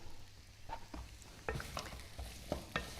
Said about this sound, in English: Now I'm already seeing that the garlic is slightly sizzling here inside the oil